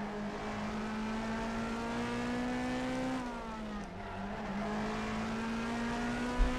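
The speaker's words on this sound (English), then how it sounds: "I hope the sound of the engine's coming through okay" A British Super Touring racing car engine in rFactor 2 drones steadily at high revs with a strong harmonic whine, dipping briefly mid-way as it shifts before climbing again; no talking.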